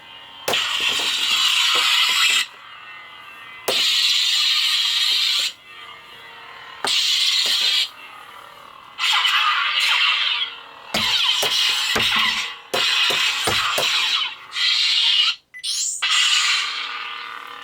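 Humming yellow lightsaber blade tones with a Sith-style sound font switch on and off in bursts, with sharp swooshes and crackling clashes between them, loud and close through a 31mm speaker.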